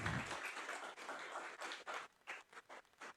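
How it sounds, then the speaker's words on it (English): Applause from an audience at a university game jam awards ceremony, a faint scatter of claps that thins out into separate, irregular hand claps toward the end. "Applause."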